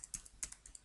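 Quiet keystrokes on a computer keyboard, a short burst of about six to eight taps in an uneven rhythm, close and soft with no voices.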